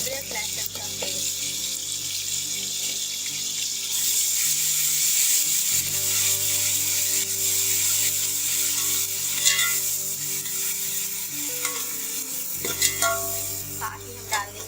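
Ginger garlic paste sizzling in a pan of oil for besan curry, a steady close hiss with occasional stirring scrapes and a louder burst as more goes in, no talking.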